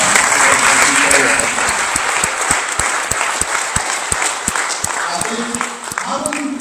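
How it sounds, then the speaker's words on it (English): Audience applause following an inaugural academic lecture on medicinal chemistry, a dense sustained crowd of clapping across the whole stretch, steady and fairly loud with a slight easing toward the end and voices briefly audible near the close. "Please, a round of applause."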